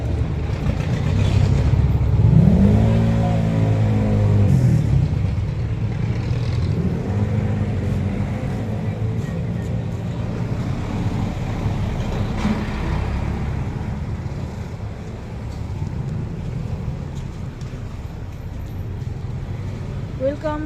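A car engine idles and revs as the owner settles into the vehicle, a loud low rumble with a rising rev early on, holding steady throughout while people talk over it.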